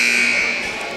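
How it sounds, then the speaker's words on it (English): Buzzer blaring in a high school varsity basketball gym, a steady loud electronic tone sustained through the whole moment and slowly easing off, with crowd noise and voices underneath. "Not sure why the buzzer buzzed."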